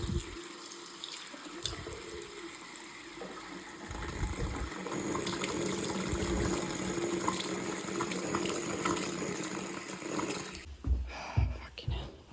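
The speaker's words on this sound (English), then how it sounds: "Let's go and purge the air out," Water spurts and gushes from a bleed point while air is purged from a domestic heating system at the top of the stairs. The hissing, splashing flow runs steadily and loud, then breaks into sputters near the end.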